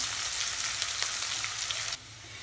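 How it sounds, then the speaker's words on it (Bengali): Chopped medium onion frying in hot oil until golden brown, a steady close sizzle that cuts to a quieter crackle near the end, no voices. "এইবার পেঁয়াজটাকে আমি গোল্ডেন ব্রাউন হওয়া পর্যন্ত ভেজে নেব।"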